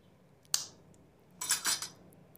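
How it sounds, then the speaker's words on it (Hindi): Eggs cracked one after another into a bowl for a bread egg pan pizza, giving a sharp single crack followed a moment later by a cluster of brittle shell taps and breaks, close and fairly quiet. "अंडों को मैं तोड़ के बाउल में डाल रही हूँ"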